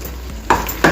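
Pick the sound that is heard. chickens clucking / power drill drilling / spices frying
spices frying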